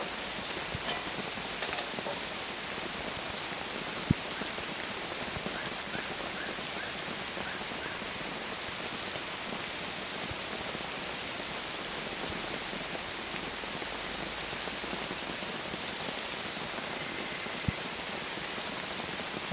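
Heavy rain pours steadily on a forest campsite, a dense, even hiss with scattered drips and taps against nearby surfaces, continuing without pause and with no voices.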